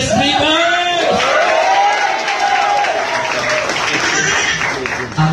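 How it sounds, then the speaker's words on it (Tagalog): A loud, steady wash of audience applause with cheering and shouting at a live show in the Philippines, filling the whole stretch with a voice rising above the crowd noise. "sa mga malakas na malakpakan na may sigawan naman"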